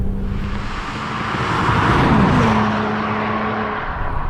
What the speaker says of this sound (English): The engine revs up really smooth, and it makes great power.